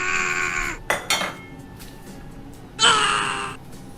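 Coriander powder, cinnamon sticks and star anise are dropped into a brew pot for homemade soda, giving a few close, bright metallic clinks and ringing clatters with a quieter gap between them.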